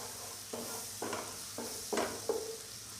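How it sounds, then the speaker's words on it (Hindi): Spoon stirring flour into melted butter in a pan for white sauce, four or five short scraping strokes at a close, quiet level against a faint sizzle. "मैदा ऐड करने के बाद इसको अच्छी तरह से मिक्स कर लेना है।"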